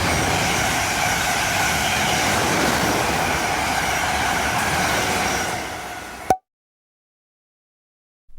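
A British Rail Class 444 Siemens Desiro electric multiple unit rumbles along with a steady, loud, close rail roar and faint wheel hum for about six seconds, then cuts off abruptly into silence.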